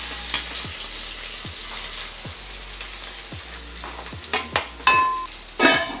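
Onions frying and being stirred in a pan for a quick morning breakfast, a steady sizzle broken by regular scraping strokes of a ladle, with a few sharper clatters near the end and no talk.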